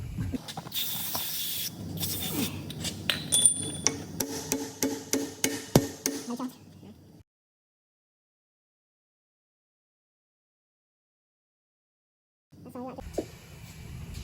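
A quick run of sharp metallic hammer blows knocking out a rear axle bush on a 2008-2013 Mk7 Ford Fiesta, loud and close, speeding up before stopping; a stretch of silence follows, then faint workshop noise returns.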